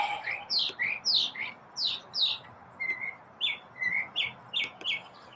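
Birds chirp in trees in the morning: a run of about a dozen sharp, bright calls arrives in a fairly regular rhythm, moderately close, over a quiet outdoor background.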